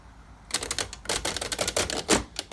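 A 1915 Underwood Type 5 typewriter has its tab key worked, giving a quick run of sharp, close mechanical clacks and rattles after a brief quiet start, loud and alone.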